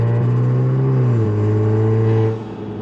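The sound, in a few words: Mk7 Golf R exhaust revving in first gear, valve opening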